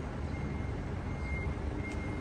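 A forklift at a warehouse backs up, its reversing alarm beeping steadily over loud, rumbling engine noise and outdoor bustle.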